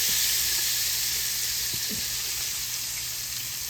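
Beef liver fries in a hot pan with a loud, steady, close sizzle and a couple of brief scrapes as it is moved around, no talk.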